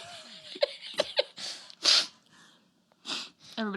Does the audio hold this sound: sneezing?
yes